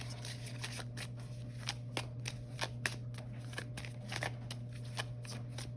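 Tarot cards are shuffled quietly in a steady run of soft riffling flicks and taps, close and faint over a low constant hum.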